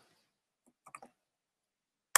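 A few soft mouse clicks while copying and pasting links on a computer, a faint quick cluster near the middle followed by one sharper, louder click at the end amid near silence.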